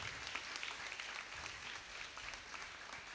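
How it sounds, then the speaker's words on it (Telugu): Worshippers at a church feast of Our Lady of Fatima clap together in a steady, quiet, somewhat distant wash of applause. "గట్టిగా చప్పట్లు కొట్టండి."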